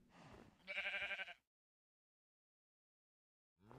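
A sheep bleats in a video game, two short wavering bleats close together near the start, then silence, with another bleat cutting in at the very end; no talking.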